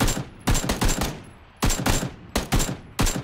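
Rapid bursts of automatic gunfire in the video game PUBG, loud, close, sharp volleys of several shots separated by brief gaps.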